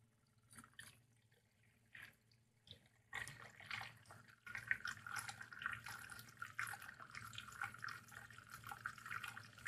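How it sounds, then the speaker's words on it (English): A magnetic stirrer spins a water sample in a lab setup for dissolved oxygen testing, giving a soft continuous liquid swirl and splashy trickle that grows louder after a few seconds and keeps going steadily. "Let's turn on the magnetic stirrer and see how adding turbulence affects water quality."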